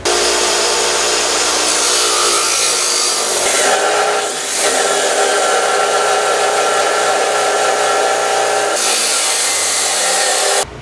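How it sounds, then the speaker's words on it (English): A chop saw cuts through thick-walled quarter-inch steel tube at a 45-degree angle, a loud continuous grinding whine that holds steady for about nine seconds before winding down, with no talking. "going to start this project with the chop saw. We're going to cut a couple of 45s."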